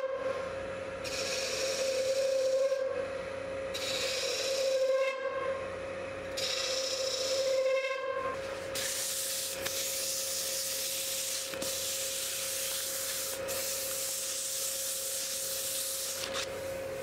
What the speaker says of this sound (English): I sanded that up, started at 180 and just did 180 and 240